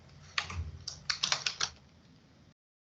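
A username is typed on a computer keyboard, with about ten crisp, close key clicks in an uneven rhythm over two seconds, followed by silence.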